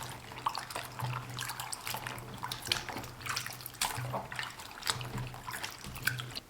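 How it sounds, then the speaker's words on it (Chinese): Soaked bok choy is rinsed under a running kitchen tap, a faint, steady trickle and splash of water over leaves with a low hum beneath. "首先，我们将浸泡好的油菜清洗干净。"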